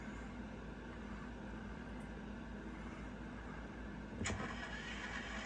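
A Piko Whitcomb N scale model locomotive with onboard sound plays its engine startup effect: a steady electronic rumble, then a sudden crank-and-fire burst near the end, close and fairly quiet.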